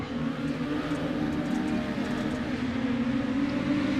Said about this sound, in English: Listen to those four-cylinder engines.